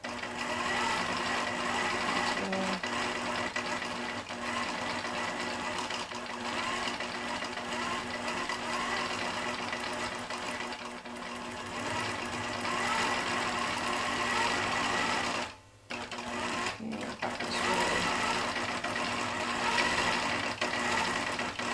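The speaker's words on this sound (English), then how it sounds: "I'm trying to keep the stitching as continuous as possible." A computer-controlled iQ quilting machine stitches a quilt with a steady, continuous mechanical hum and needle chatter, broken by a brief pause near the end before resuming, with a person talking quietly over it.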